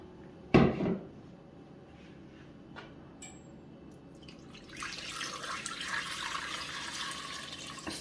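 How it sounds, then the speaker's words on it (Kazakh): Cold water is poured into a cooking pot holding cleaned mutton for a Kazakh boiled broth. A sharp knock comes first, then quiet, then a steady rushing stream of water that continues to the end. "Үстіне міндетті түрде салқын су құюымыз керек."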